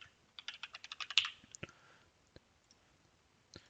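Computer keyboard typing while entering a node name in Dynamo for Revit: a quick burst of crisp keystrokes, then a few scattered clicks in a quiet room.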